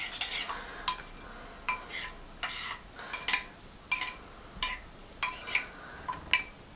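A metal spoon scrapes and clinks against a bowl while appam batter is stirred with a yeast mixture, about a dozen close, rhythmic strokes with short pauses between them, no voices.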